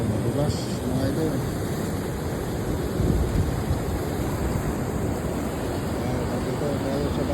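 Surf washing steadily onto a seaweed-strewn Philippine shoreline, a broad continuous roar with wind buffeting the microphone and a voice talking over it throughout.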